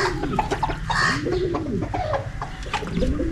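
Several pigeons coo in soft, rolling, overlapping calls close by, with light fluttering and shuffling noises around them.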